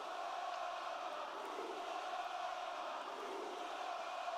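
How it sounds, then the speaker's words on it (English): A wrestling arena crowd at a live WWE Raw show keeps up a dense, even roar of cheering and chanting, heard at a distance and fairly faint throughout, with no talk over it. "Absolute fire crowd."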